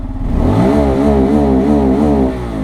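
A Bajaj Pulsar N250 motorcycle, a 2022 250cc dual-ABS model, revs hard and close by, its engine note climbing and holding high with wavering pitch before dropping slightly at the end, loud and alone.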